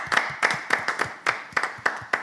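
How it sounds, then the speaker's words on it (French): A group of boys claps together at a small gathering, giving a sparse, loosely synchronized round of about eight sharp clap bursts at a steady rhythm, fairly close and moderately loud with no talking. "Les garçons, on va juste applaudir."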